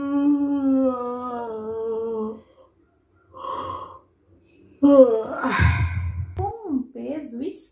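A storyteller's voice imitates a wolf waking and yawning, with a long drawn-out vocal yawn, a short breathy sound after a pause, then a rising, wavering groan-like stretch and sigh.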